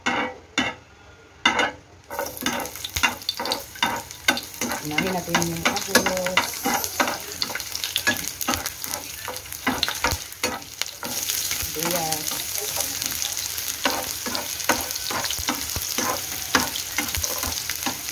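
Guisadong sitaw, a string bean vegetable dish with lechon manok, stir-fried in a pan with a loud continuous sizzle and rhythmic scraping and clattering of a utensil against the pan throughout.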